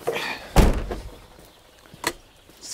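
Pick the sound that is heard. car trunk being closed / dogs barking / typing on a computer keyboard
car trunk being closed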